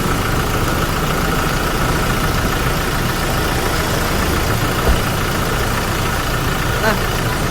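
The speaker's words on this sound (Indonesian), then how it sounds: "Nah, seperti ini teman-teman suara mesin mobilnya ya. Dia tuh memang karakter mesin diesel ya, keras suaranya, tapi kerasnya tuh juga halus." Diesel engine of a 2017 Toyota Fortuner VRZ idling, a loud, steady and even rumble heard close up without a break.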